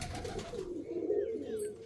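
An Andhra pigeon gives a low, close, throaty coo with a brief flutter before it, heard while a female bird is released from the hand.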